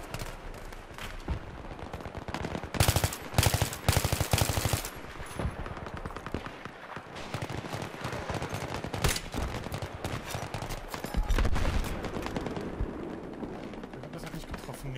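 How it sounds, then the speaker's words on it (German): Rapid machine-gun fire and scattered gunshots in a Battlefield 3 Rush match, loud bursts that come and go, with heavier volleys at a few points and brief chatter underneath. "Auf uns geschossen."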